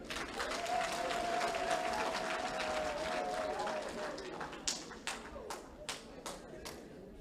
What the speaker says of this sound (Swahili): Wapigiwa makofi.